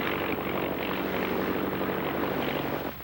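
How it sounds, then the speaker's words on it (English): A small, fast racing plane at the National Air Races drones past with a continuous, loud propeller-engine roar that holds steady before easing slightly at the end. "This little plane of moth-like proportions is typical of the fast racing planes being built by their owner pilots"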